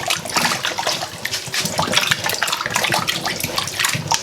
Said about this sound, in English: We're finished peeling the potatoes now, so I'm just going to wash it quickly.